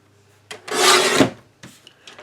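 A trimmer cuts across card stock for a handmade fall card, one close rasping slide lasting about a second, followed by a few faint taps and shuffles.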